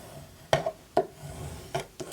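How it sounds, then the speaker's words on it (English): A folded paper piece of a shabby chic flipbook being burnished by hand, four or five short dry rubbing strokes spaced irregularly, close and quiet. "Give that nice burnish."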